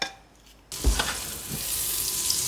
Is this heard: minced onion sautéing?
yes